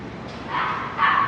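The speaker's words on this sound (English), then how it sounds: "You can hear the barking sound around us." Dogs at a dog cafe in New Delhi bark in the distance, a few overlapping yips and barks rising over steady outdoor background noise.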